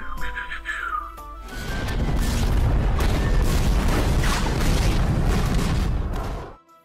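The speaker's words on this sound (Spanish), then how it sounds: "Cañonazos para afuera." A heavy, continuous barrage of booming Minecraft cannon blasts from a galleon rumbles loudly for several seconds after a brief tonal intro, then cuts off abruptly.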